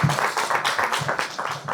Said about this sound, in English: Thank you so much. Round of applause